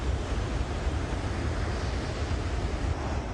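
Water pours from the opened sluice gates of a reservoir in a dense, continuous roar, with a low rumble and steady rushing noise throughout and no voices.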